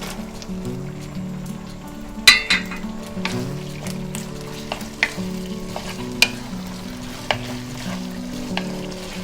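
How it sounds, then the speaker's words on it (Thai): Fried pork being tossed in a pan of thickening sauce, close sizzling with repeated scraping strokes and sharp clinks of a utensil against the pan, loud and continuous with no voices. "ก็ให้เรา เอาหมูที่เราทอดเตรียมไว้อะค่ะ ลงคลุกได้เลยค่ะ"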